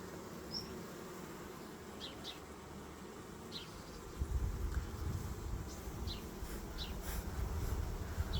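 A small honey bee swarm clusters on one or two hive frames, giving off a steady low buzzing hum that swells louder midway, with a few faint chirps above it.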